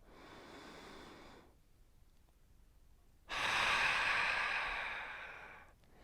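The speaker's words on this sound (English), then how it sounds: "Take another deep breath in." Deep breathing during a mindful mobility workout, a slow airy inhale followed after a pause by a longer, louder breath, close to the mic with no talking.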